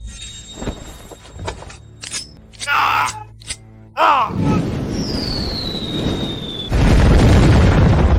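Grenade explosions in a battle scene: scattered shouts and grunts lead into a sudden deep boom, then a rising whistle and a second loud, rumbling blast.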